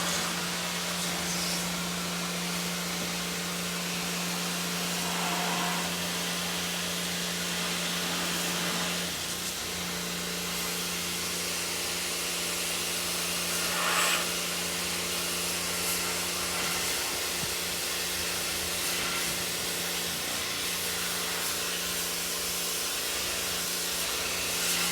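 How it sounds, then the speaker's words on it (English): A spray gun coats the interior of a jet ski hull in white paint, giving a loud continuous hiss with a steady low compressor hum underneath that dips briefly midway. "we're gonna spray this hull out"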